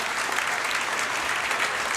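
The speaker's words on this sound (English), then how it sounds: "You owe yourself a round of applause." Graduation audience at a 5th grade ceremony applauding, a steady dense wash of clapping from many hands that stays loud and even throughout with no talk over it.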